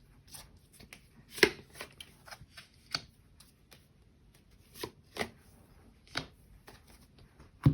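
Tarot cards shuffled and drawn one by one during a reading: a series of soft, papery riffles and quick snaps at an uneven pace, close and fairly quiet, with no talking.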